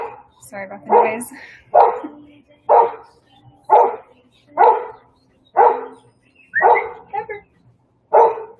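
A small dog barking outdoors, about nine loud, evenly spaced barks close to the microphone, roughly one a second, with no talk between them.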